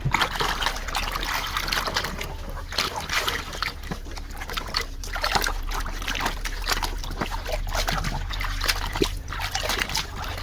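A muddy toy sports car is dunked and splashed about in a tub of water, making continuous close sloshing, trickling and splattering with no pauses.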